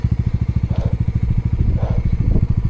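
A motorcycle on a long Ladakh highway ride, towing another bike that broke down, runs close and loud with a steady, rapid thumping engine beat throughout.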